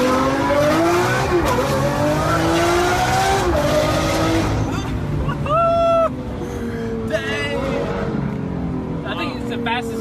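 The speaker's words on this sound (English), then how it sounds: "I think it's the fastest we ever launched right there" A 2022 Mercedes G63 G Wagon, rebuilt after a wreck, launching at full throttle, its engine roaring loud and close with a rising pitch through the gears while people talk and exclaim over it.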